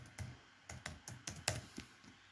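Keys clack on a computer keyboard as HTML code is typed, a short burst of about seven distinct strokes in an uneven rhythm, close and fairly quiet, with no voice.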